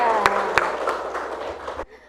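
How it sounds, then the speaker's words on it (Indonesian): Students in a classroom give a group a round of applause, a dense spray of hand claps with a couple of sharper claps standing out, continuing about two seconds then cutting off; murmured voices sit underneath. "Beri tepuk tangan untuk kelompok 2"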